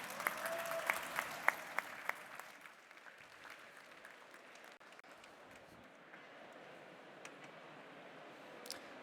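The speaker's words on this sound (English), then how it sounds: "So if you join me in a round of applause and welcoming James" Audience at the BETT 2020 education technology conference applauds a speaker: a full, lively round of clapping at first with a few sharp close claps, then tapering into a quieter, thinner patter that lingers.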